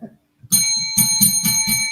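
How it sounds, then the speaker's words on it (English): A bright metallic bell rings in a rapid series of repeated dings, close and loud, played as a sound effect right after a brief voice. "Need some bell for Sparky"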